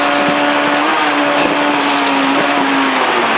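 Rally car engine held flat out at high revs in fifth gear on a rally stage, a loud, steady, sustained roar with faint bumps over rough ground.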